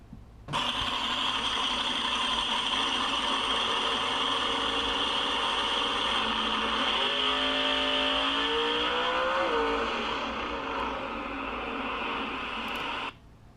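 A car accelerates hard on a fixed dynamometer, its engine holding a loud, steady high drone that climbs in pitch through the run before cutting off abruptly.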